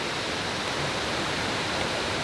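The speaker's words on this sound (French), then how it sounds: "Hé, il y a une cascade là-bas." A waterfall seen outdoors roars as a steady, dense rush of falling water, continuous and fairly close with no pauses or other sounds.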